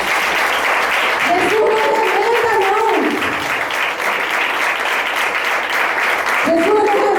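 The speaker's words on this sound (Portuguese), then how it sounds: "Aplauda Jesus." A church congregation applauds steadily throughout, a dense continuous clapping wash, while a preacher's voice speaks over it near the start and again at the end.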